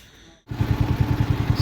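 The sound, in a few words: motorcycle engine starting for a night bike trip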